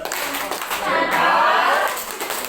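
A classroom of students performs a rhythmic clapping chant, the tepuk salut, during a primary-grade social studies lesson. The clapping is dense and lively, swells in the middle and holds steady throughout, with no talking over it.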